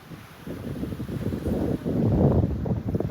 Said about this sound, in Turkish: Bayağı bir rüzgar çıktı şimdi